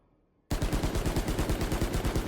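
Rifle fire in the video game Valorant: silence, then a sudden sustained automatic burst of rapid, evenly spaced loud shots lasting about two seconds.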